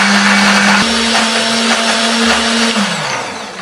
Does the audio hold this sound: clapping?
no